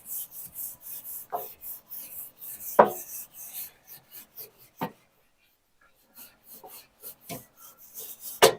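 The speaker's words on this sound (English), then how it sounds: "I'm not going to tell you what type of grill brush to use to clean your grates." Wire grill brush scrubbing grill grates, with rough, raspy strokes repeating in an uneven rhythm and short pauses between them. Close and fairly quiet, with no talking.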